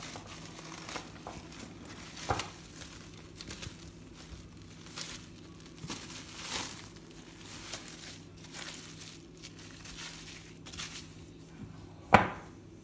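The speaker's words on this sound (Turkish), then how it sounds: "Şimdi hamurumuzun üstünü açıyoruz" Plastic stretch film is peeled off a bowl of risen pide dough, giving soft intermittent crinkling and crackling, with a sharper rustle near the end.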